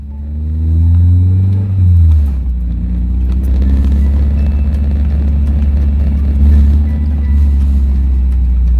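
A 1999 Mazda Miata engine with a K&N Typhoon intake rumbles steadily from inside the cabin, with a deep drone that rises briefly as it revs, then settles into a constant low hum.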